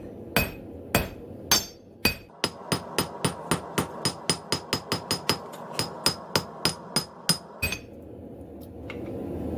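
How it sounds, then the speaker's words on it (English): A hammer's cross peen strikes hot metal on an anvil while forging a split cross, a rapid, ringing series of about two dozen blows, three slow hits first, then a steady quick rhythm. "I'm going to draw out the arms by hitting the back side with the cross peen of my hammer"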